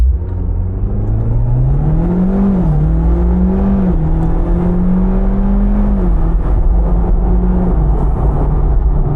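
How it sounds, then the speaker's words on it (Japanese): A Mitsubishi Lancer Evolution X (CZ4A) 280-horsepower engine revs hard under full throttle, its droning pitch climbing, dipping briefly at S-SST gear changes, then climbing again, loud and continuous throughout. "アクセルベタ踏みオン。"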